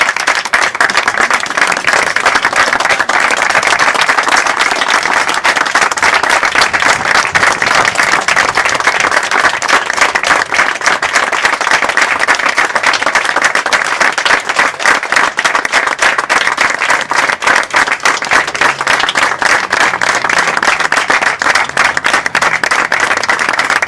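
Sustained, loud crowd applause at a political rally for a campaign, dense and continuous clapping that holds steady throughout, given in place of a minute of silence.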